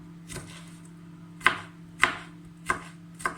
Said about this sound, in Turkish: ince kıyım.